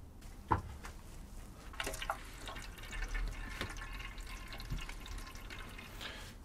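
Liquid drained off a big batch of fermented Jolokia peppers, with a steady trickling wash and scattered drips and small knocks, close up with no talk.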